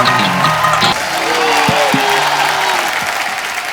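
Studio audience applause fills the room on a Hindi comedy talk show as guests Salim and Sulaiman are welcomed, a steady dense wash of clapping with some cheering and faint voices mixed in.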